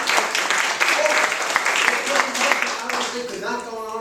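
Applause from an open house audience at a nature club, a steady clatter of many hands clapping at moderate distance, with some voices mixed in near the end.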